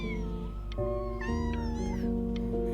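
A cat meows repeatedly in the video game Before Your Eyes, several drawn-out, rising and falling meows over a steady low musical drone, with no talking.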